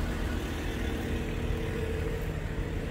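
A 2020 Ram 1500 EcoDiesel pickup engine runs quietly at idle, giving a smooth, steady low hum with no revving for the whole stretch.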